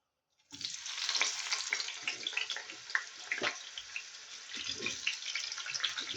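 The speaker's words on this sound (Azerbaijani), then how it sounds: "sonra doğrayıb indi tavaya əlavə edirik." Three large peeled and chopped potatoes go into a hot frying pan, setting off a sudden rush of sizzling that settles into a steady, moderately quiet hiss with scattered pops.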